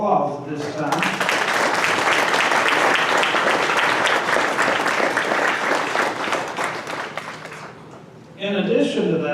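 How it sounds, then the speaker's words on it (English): Sustained applause from an audience at a JROTC awards banquet, a full dense roar of clapping that fades slightly near the end before a voice resumes speaking. "I'd like to give them a round of applause at this time."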